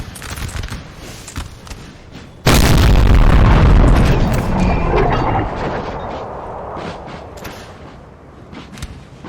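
Artillery in a Napoleon Total War battle fires with a sudden heavy boom that rolls out into a long, loud, fading rumble, after quieter distant battle noise.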